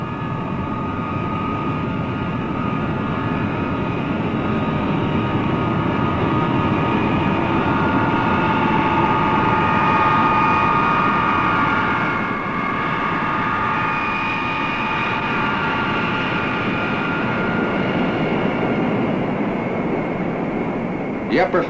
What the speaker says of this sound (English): the B-52 pilot taxis to the takeoff runway